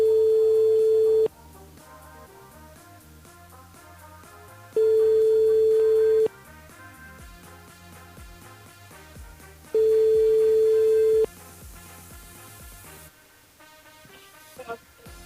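Telephone ringback tone on a radio call-in show on Kayanm FM, heard as three long steady beeps spaced a few seconds apart over background music, fairly loud and clear.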